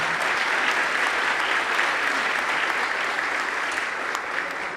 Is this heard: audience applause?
yes